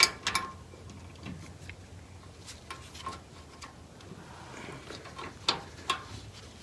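Bolts are fitted on Viking coil-over suspension on a 1963 Chevy II Nova SS, heard as faint, scattered metallic ticks and clinks from close by with a few sharper taps, with no talking.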